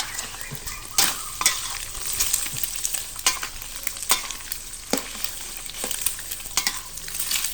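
Pork sizzles as it is stir-fried in a hot pan, with repeated scraping strokes of a spatula cutting sharply through a steady frying hiss.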